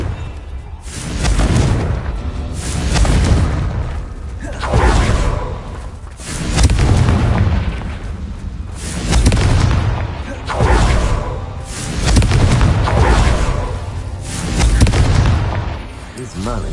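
Repeated booming fire-blast explosions from the Confringo blasting curse in the Hogwarts Legacy video game, bursting roughly every two seconds in a steady rhythm, loud and close, over a busy game soundscape with speech mixed in.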